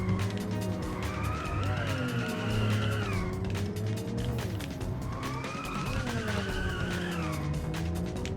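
A car in the racing game Inertial Drift brakes and slides into drifts, the engine whining and shifting pitch beneath long rising and falling tire squeals, loud and constant throughout.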